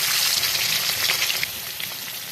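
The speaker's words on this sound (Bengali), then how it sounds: "তেল গরম হয়েছে আর কাঁড়ালি চিংড়িগুলো ভাইজে নেব।" Prawns sizzle in hot oil, a dense, steady crackling hiss close up that fades slightly toward the end, with no voices over it.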